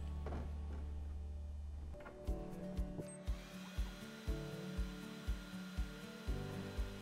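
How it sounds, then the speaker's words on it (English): xTool laser cutting plywood with a smoke purifier fan running, a steady whirring air drone under a regular series of mechanical clicks and thumps as the laser head moves. "With smoke purifier, let's see how is it when we cut through the plywood."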